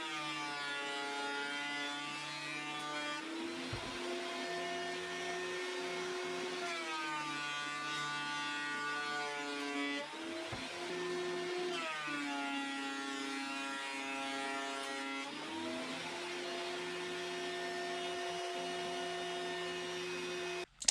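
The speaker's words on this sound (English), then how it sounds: "So over to the planer thicknesser." A planer thicknesser feeds an oak board through for new workbench tops, a loud steady mechanical whine with shifting harmonic tones as each pass loads and unloads, continuous and close with no talking.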